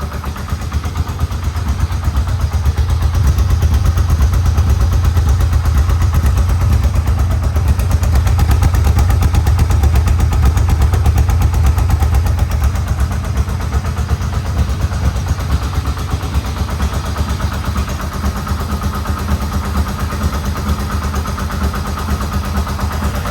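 A Yamaha Vmax motorcycle engine idling at about 1,000 RPM right after a first-kick start, a steady loud low rumble running unbroken and close throughout.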